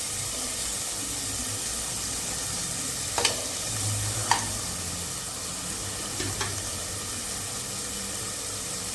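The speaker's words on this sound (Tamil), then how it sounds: "வெங்காயம் நல்லா வதங்கணும்" Onions sautéing in a pan give a continuous close sizzle, with a few sharp spatula knocks and scrapes against the metal now and then, no voices.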